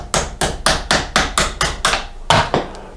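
Hammer tapping a 16mm socket on a pipe to drive out a wheel bearing on a 1983 BMW R100RS motorcycle: about ten sharp, loud metallic strikes in a steady rhythm, close up, with no talking.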